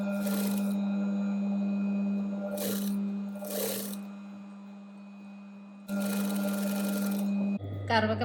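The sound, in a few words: sewing machine stitching a neck piece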